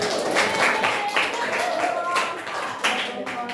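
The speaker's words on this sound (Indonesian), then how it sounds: "Ibu minta tepuk tangan nih" Classroom applause from students during a school lesson, a burst of clapping with chatter and voices mixed in throughout.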